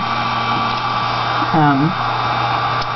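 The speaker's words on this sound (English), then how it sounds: "Now I'm going to come up front and I'm going to heat it from the top" An embossing heat tool blowing steadily throughout, a loud constant whirring hum with a brief tonal wobble midway, close and alone.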